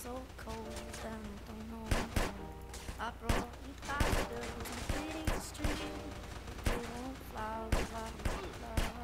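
Gunfire from an MP5 in the SA-MP video game, repeated sharp bursts spread across the clip over music and voices.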